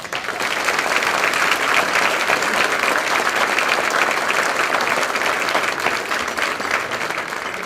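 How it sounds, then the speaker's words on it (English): Sustained audience applause fills a banquet room at a youth awards dinner, a dense steady clapping from many hands that holds at an even level throughout. "let's give Chris another round of applause"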